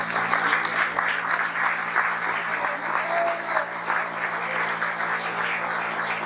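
Sustained applause from a large crowd, dense and steady clapping lasting the whole time, with faint voices mixed underneath.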